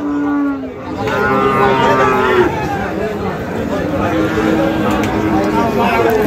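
Cattle and large bulls at a busy livestock market: a drawn-out moo opens, followed by more lowing under steady crowd chatter and people talking nearby.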